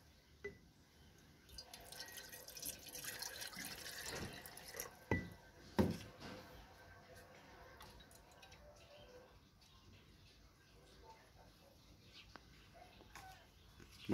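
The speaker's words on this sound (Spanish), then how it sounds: "Vamos a colocar un poco de agua." Water is poured from a one-liter container onto freshly sown cactus seeds, a close trickling and splashing that swells for a few seconds and then tapers off amid soft handling noises.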